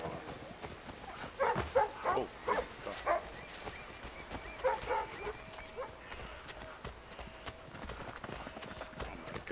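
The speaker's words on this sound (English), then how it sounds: "good dog or wolf I don't know which one you are." A dog or wolf in the video game Assassin's Creed 3 Remastered gives several short barks in the first few seconds, set against hoof clip-clop and game ambience, with faint speech-like sound in the mix.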